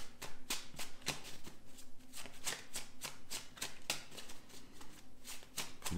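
Tarot cards being shuffled and drawn by hand during a reading, a steady run of close, crisp riffling bursts and soft card slaps with no talking.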